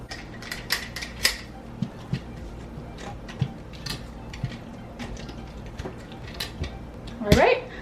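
A lid set down on a slow cooker pot full of beef chili, giving a few light, close clinks and taps over a low, steady kitchen hum, with a brighter scrape near the end.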